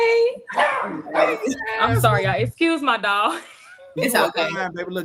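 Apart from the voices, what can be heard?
dog barking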